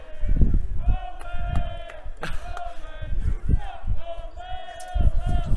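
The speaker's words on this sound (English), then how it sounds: "West students in attendance are cheering on their Whippets" Students in the stands at a high school varsity lacrosse game cheer on their team, with loud shouts and yells rising and falling in bursts and a hooting chant running through a busy crowd.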